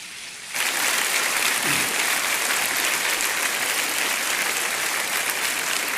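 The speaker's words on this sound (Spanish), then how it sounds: "¿Cuántos le dan un aplauso al Señor?" A church congregation breaks into sustained, dense applause for the Lord during a Spanish-language sermon on marriage, starting abruptly after a brief quiet moment and holding steady and loud throughout.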